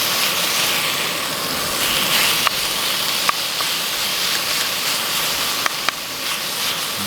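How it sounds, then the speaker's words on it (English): Meat browning in a skillet on a backpacking stove, with a steady, loud hiss and sizzle throughout and a few faint clicks, no talking. "browning this meat here"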